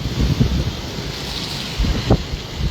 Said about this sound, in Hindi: ये देखिए पानी जो है इतनी तेजी से बह रहा है कि इसकी आवाजें ऊपर तक सुनाई दी जा रही है